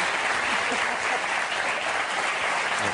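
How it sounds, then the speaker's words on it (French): Television studio audience applauding a guest on a French variety show, a continuous dense roar of clapping at even loudness throughout. "Jean-Marie Perrier, je vous demande d'applaudir encore"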